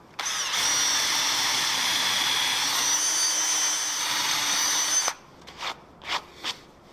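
Power drill boring out holes in a wooden anvil stand built for a 66 lb anvil: about five seconds of loud, steady grinding whir, then a few short separate bursts.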